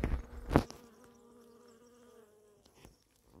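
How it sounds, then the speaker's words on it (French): Bees buzzing around lavender in bloom, a close, droning hum that rises after a rustle, holds steady for a couple of seconds and then fades away. "on entend les abeilles là-dedans"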